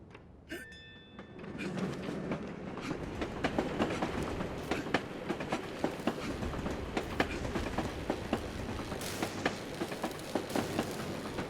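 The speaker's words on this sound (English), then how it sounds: "I could catch a ride on the roof of that tram." Tram rolling along rails in the Assassin's Creed Chronicles: Russia video game, a steady rumbling ride with regular clickety-clack wheel knocks and rattles running throughout, loud and continuous with no speech.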